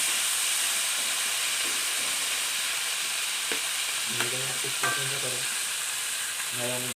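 Fish with bottle gourd frying on an electric stove, giving a steady loud hiss and sizzle throughout, joined by faint tonal beeps or hums in the second half, with no talk.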